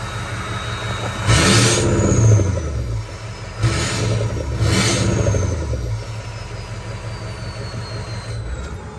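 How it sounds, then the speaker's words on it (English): A truck engine fitted with a bigger exhaust revs up several times with a deep throaty exhaust roar, each surge rising and falling back to a rumbling idle. "it definitely sounds better with the bigger exhaust"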